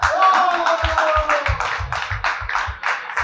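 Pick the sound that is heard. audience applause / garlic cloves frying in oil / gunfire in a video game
audience applause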